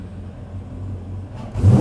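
A V8 engine in a Land Rover Defender 110 rally build idles with a deep, steady rumble, then surges into a louder rev near the end, close by and with no talk.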